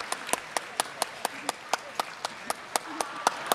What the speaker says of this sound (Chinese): 我们再热烈的掌声啊